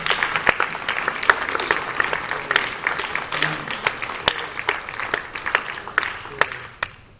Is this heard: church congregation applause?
yes